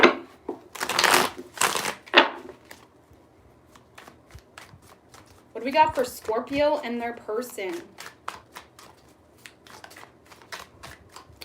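Tarot cards shuffle in a few quick riffling bursts at the start and again near the end, with someone speaking in between.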